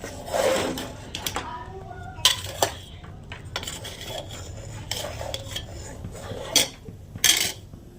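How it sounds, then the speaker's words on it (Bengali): Milk is stirred into freshly made caramel in a pan while making yogurt, giving close scraping and clinking of a utensil against the pan in irregular strokes with short sharper knocks. "অল্প অল্প করে অল্প একটু দুধ ঢেলে ক্যারামেলটার সাথে মিশিয়ে নেব।"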